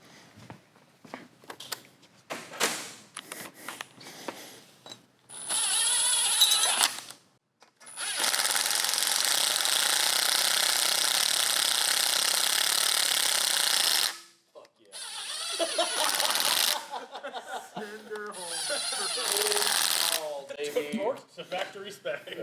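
A power tool drives countersunk bolts into a 6.0 LS3 stroker engine during assembly, whirring loudly in several sustained bursts of a few seconds each, separated by short pauses, with people talking around it.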